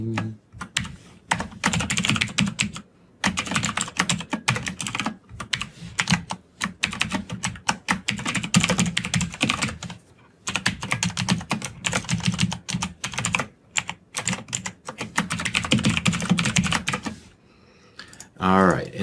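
Someone types code on a computer keyboard, producing rapid, close bursts of key clatter broken by short pauses.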